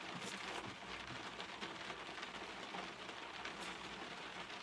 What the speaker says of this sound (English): Can you guys hear that rain?